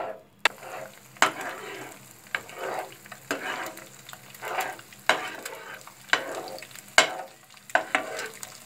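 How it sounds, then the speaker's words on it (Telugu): Egg frying in hot oil for egg Maggi sizzles loudly and close, with a regular rhythm of spatula scrapes and stirring strokes about once a second. "ఎర్రగా ఎగనివ్వాలి ఫ్రెండ్స్ ఎగ్గుని."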